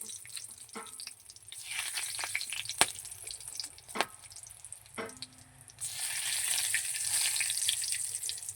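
Dry chillies, whole garam masala and bay leaves crackle in hot oil for a home-style chicken curry, a soft frying hiss with a few sharp pops and clatters, swelling to a louder sizzle near the end.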